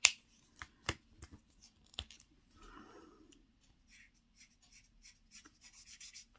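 A brush-tip felt pen scratches across paper in short, quiet, intermittent strokes during scrapbooking, close to the microphone in a quiet room.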